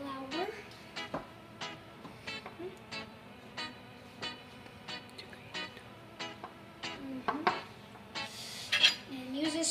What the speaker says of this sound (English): Now stir in the salt and the rest of the flour.